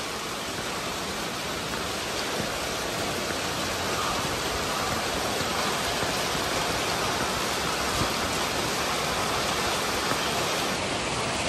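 Heavy rain pours steadily onto a flooded city street, a dense unbroken hiss that stays loud and even throughout with no voices.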